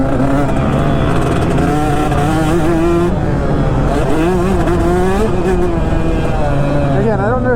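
Husqvarna motorcycle engine screaming at high revs, loud and close, pitch rising and falling through shifts over a steady roar with other bikes blended in.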